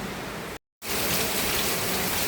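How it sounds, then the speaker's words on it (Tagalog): Steady rain falls at an outdoor event place in Indang, Cavite, as an even, dense hiss. It breaks off for a moment, then returns just as loud. "Maulan."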